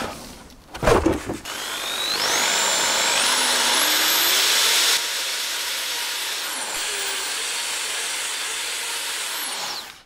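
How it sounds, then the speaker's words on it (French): A drill spins a stiff wire brush against a rusty metal part of a Renault Twingo, a loud steady whirring grind with rising pitch whines after a few knocks as it starts, running continuously until it stops. "Pour ça je vais utiliser mon assortiment de brosses avec ma perceuse. Et je vais prendre une brosse à poil dur"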